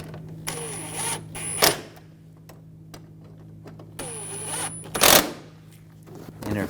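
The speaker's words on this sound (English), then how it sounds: "Take these screws, get these started." Screws being driven into a 2004-2009 Audi A4 Quattro headlight assembly: two separate mechanical whirring bursts, each with a thin high whine, over a steady low hum, with quiet gaps between them.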